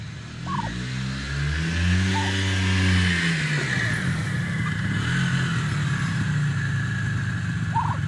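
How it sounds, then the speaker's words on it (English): A Polaris two-stroke quad revs its engine, with a rising and falling buzzy drone that swells, holds briefly and tapers off, heard fairly close. "I love the two-stroke engine in it. It's revvy, it's zingy, it's zippy, all those words."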